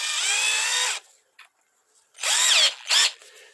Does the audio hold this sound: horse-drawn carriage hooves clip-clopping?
no